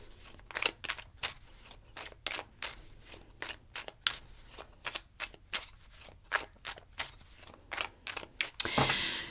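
Tarot cards shuffled close up in a steady run of crisp riffling slaps, about two dozen quick snaps, ending in a longer rushing riffle.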